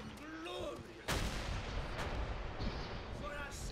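Gunfire in the World War II shooter Call of Duty: World at War, a sharp loud shot near one second followed by sustained rattling fire and blasts, with voices talking over the din.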